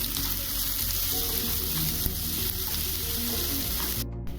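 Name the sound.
frying chopped onions with bay leaf and red chili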